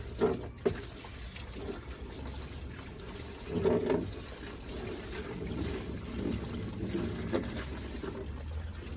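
Water washes spilled coolant off the engine of a 2011-2015 Dodge Durango during a thermostat replacement, a steady rushing spray and splash that swells briefly in places, close to the microphone.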